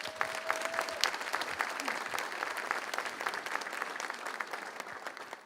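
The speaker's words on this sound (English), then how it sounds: "Give them a big round of applause." An audience at a Garland ISD Teacher of the Year luncheon applauds for the honorees, with dense, steady clapping throughout, moderately loud and with a hint of voices underneath.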